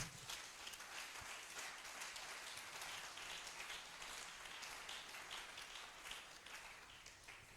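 Congregation clapping and cheering to acclaim Jesus during a French-language evangelical church service, a dense, steady wash of applause filling the room for several seconds with no speech over it.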